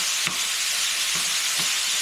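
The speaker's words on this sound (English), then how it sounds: "we've got the browning of the sausage" Sausage browns in a pan for a keto egg bake, a constant close sizzle broken by a few soft stirring scrapes at regular intervals.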